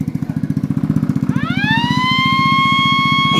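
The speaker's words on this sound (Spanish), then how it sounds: "Le puse bocina porque no tenía." A newly fitted horn on a 50cc motorbike sounds one long steady blast, loud and close, over the idling engine's rapid putter, which continues underneath throughout.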